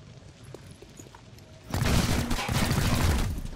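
Gunfire from a squad firing in the video game XCOM Chimera Squad breaks out suddenly as a dense, loud volley of rapid shots that continues for a couple of seconds after a quiet lead-in.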